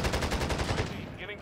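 Rapid bursts of video game gunfire rattle in a fast, continuous stream of sharp shots, loud and close, before cutting off.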